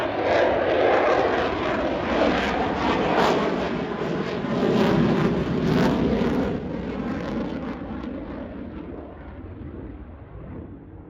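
Chinook helicopter flying at the RAF Cosford airshow, a loud broadband roar with a throbbing rotor beat that holds steady and then slowly fades into the distance.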